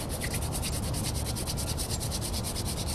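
A primitive hand drill spins a wooden stick against a wooden board to make friction fire, giving a continuous close, rapid rubbing and grinding sound with a fast pulsing rhythm, heard alone.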